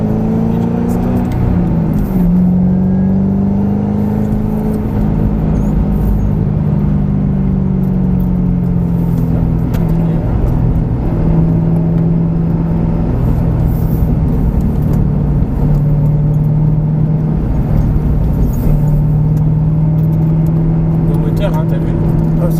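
A Ford Mustang GT500 on a racetrack during a driving course accelerates with a loud, steady engine roar, its pitch climbing and holding as it pulls hard. Heard from inside the car, with people talking over the engine.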